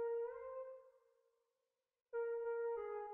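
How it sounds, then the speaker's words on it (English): A bright synth lead preset from the drop of a song, dry and unprocessed, plays a sustained tone that fades out, then a second loud note enters after a short silence, with no talking. "And that's actually just the lead preset from the drop,"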